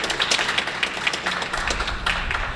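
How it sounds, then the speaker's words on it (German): An audience in a tunnel venue gives a folk duo a sustained round of applause: dense, even clapping that continues for the whole stretch, close and fairly loud. "Ein ganz dicker Applaus für ein fantastisches Folkduo."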